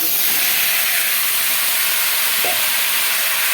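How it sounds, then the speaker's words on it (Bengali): Chunks of kohlrabi and potato fry in hot oil for a Bengali home-style dish, making a loud, even, hissing sizzle that holds constant throughout with no talking. "খুব ভালো করে ভেজে নেব সবজিগুলো"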